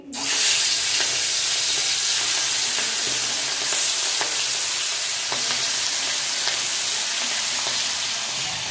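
Giant freshwater prawns frying in hot oil in a kadai give a loud, steady sizzle and hiss from the start, with occasional stirring clicks, close up and without talk.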